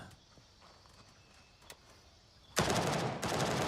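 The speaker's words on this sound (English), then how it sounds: "Someone's shooting at me." Gunfire in the military shooter video game Gray Zone Warfare: after quiet ambience, a loud burst of automatic shots erupts suddenly near the end and keeps going.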